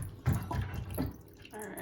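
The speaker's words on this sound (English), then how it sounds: "So we are rinsing the rice. It says for about a minute until the water runs clear." Rice being rinsed under running tap water in a kitchen sink, a steady close stream with splashing swells as the grains are stirred, no voices.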